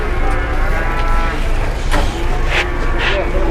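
Jumbo cattle packed on a livestock truck give deep, drawn-out moos, several overlapping lows in close succession, loud and near over a constant background rumble.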